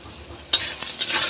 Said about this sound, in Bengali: তো আমি এখন ভালো করে তো ভেজে নেব এটাকে আমি লাল লাল করে ভেজে নেব